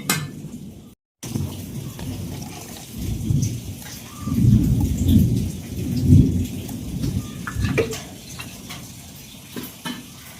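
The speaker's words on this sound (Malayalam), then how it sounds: "ചെറുതായിട്ട് ഇടിയൊക്കെ മുഴുകുന്നുണ്ട്." Soft thunder rumbles in the distance during rain, with several low rolling swells rising and fading over a faint patter of raindrops.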